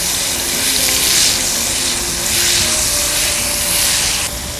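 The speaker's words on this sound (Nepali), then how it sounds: "त्यो लसुनको पेस्टलाई भुटौँ।" Garlic paste frying in hot oil in a pan for a yogurt fish curry, a loud continuous close sizzle and hiss with gentle swells, dropping slightly at the very end, with no talk.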